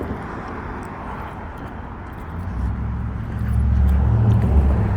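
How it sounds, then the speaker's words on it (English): Traffic on a busy residential street, a steady low rumble of passing vehicles that builds louder toward the end, heard from the sidewalk with no talking. "you do have a bit of traffic here"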